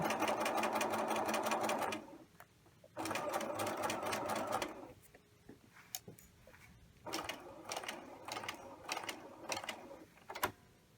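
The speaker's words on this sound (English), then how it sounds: "Stop, needles down, raise the presser foot and pivot." A sewing machine stitches a square pocket hem in bursts of rapid, even mechanical clatter, stopping and starting with quiet pauses between runs and a few single slow stitches, close by.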